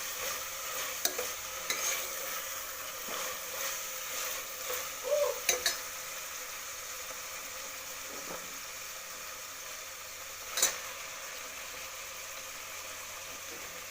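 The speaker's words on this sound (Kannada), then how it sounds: "ಎಣ್ಣೆಯಲ್ಲಿ ಸ್ವಲ್ಪ ಹಾಗೆ ಸೊಪ್ಪನ್ನು ಫ್ರೈ ಮಾಡ್ಕೊತೀನಿ" Leafy greens fry in oil in a pan for tomato bath, giving a steady soft sizzle throughout with occasional louder pops and stirring clinks, close up and without talk.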